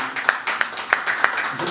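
Scattered, uneven hand claps from an audience at a press conference, a handful of sharp claps spread through the moment rather than full sustained applause, with faint room murmur underneath.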